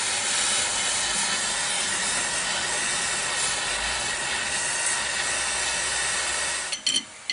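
Heat is applied to a seized inner tie rod during a tie rod replacement, producing a continuous loud, close hissing roar that holds steady before cutting off with a few brief clanks near the end.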